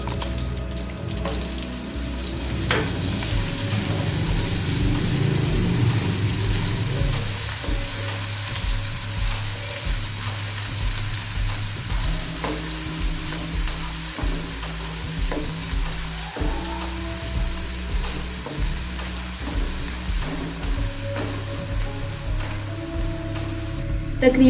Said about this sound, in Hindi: हमने कढ़ाई में ऑयल डालकर इसको अच्छे से गर्म कर लिया है। अब हम इसमें अदरक लहसुन का पेस्ट डालकर